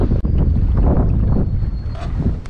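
Wind buffeting a microphone while kayak fishing for speckled trout in winter, a loud continuous low rumble and roar with gusty swells, no voices.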